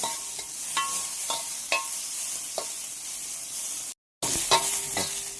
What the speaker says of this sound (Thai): ก่อนอื่นเรามาคั่วจักรจันเราก่อนนะ ใส่น้ำมันไปนิดหน่อยเพื่อนนะ